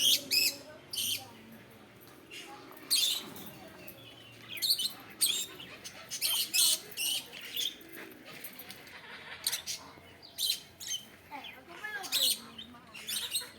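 Repeated shrill, harsh parrot screeches burst out in irregular clusters over a quiet outdoor park background, with faint talking mixed in at times.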